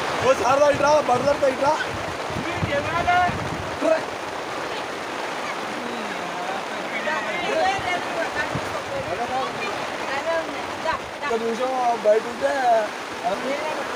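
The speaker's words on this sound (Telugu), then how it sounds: "వానొస్తుంది మంచిగా." Steady rain falling outdoors at a palm oil plantation as a constant wash of noise, with people talking over it.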